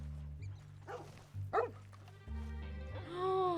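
A puppy in the Red Dead Redemption 2 video game lets out a couple of short barks and yips over a steady low game soundtrack, with a whimpering whine near the end.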